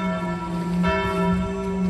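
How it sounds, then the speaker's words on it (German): A church bell rings with a sustained, humming resonance, its tones overlapping in a continuous wash of sound. "Wir hören es herrlich untermalt von der Kirchenglocke."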